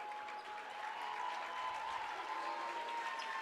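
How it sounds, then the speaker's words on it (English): Basketball crowd at a boys' high school sectional game cheers and applauds as a steady, distant wash of clapping and crowd noise with no clear talk over it. "the Indian fans cheering and Oak Hill fans cheering"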